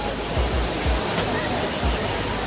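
Water of the Trevi Fountain in Rome, a loud, steady rushing wash of falling water heard close, with a voice talking over it.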